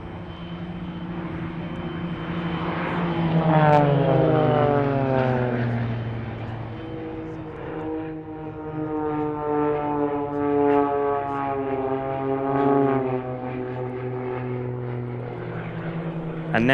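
Two propeller display aircraft make opposition passes at an airshow, their engine notes rising and falling in clear sweeping Doppler swoops as they cross, loud and close, with some talk in the background.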